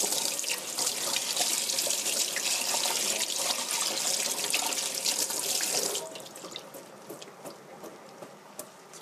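Mushrooms being washed under a running kitchen tap, with a steady loud rush of water that drops to softer trickling and splashing near the end.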